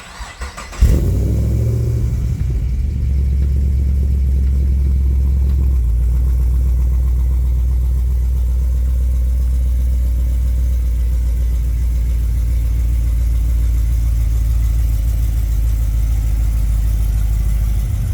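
A cammed LS1 V8 fires up and settles into a deep, loud, lumpy idle rumble, heavy low-end throbbing steadily and close by for the whole stretch after a brief cranking start.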